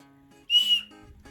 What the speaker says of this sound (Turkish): Böyle bir mızıka gibi bir düdük çıktı. Üfle bakalım.